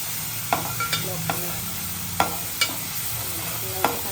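Fish masala being stirred in a pan, several distinct spoon scrapes and knocks over a low, steady sizzle, close up with no talking.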